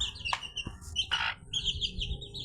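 Chickens kept in a corner of a room give short chirps and squawky calls, a few close, faint peeps scattered over quiet indoor background.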